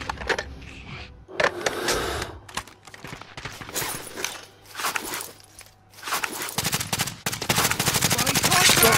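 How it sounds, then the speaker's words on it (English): Warzone gunfire in rapid bursts and single cracks, loud and close, with gaps between volleys and a steady engine-like hum through much of it. "Someone's sniping behind us."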